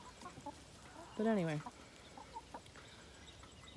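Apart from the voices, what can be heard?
chickens clucking behind fence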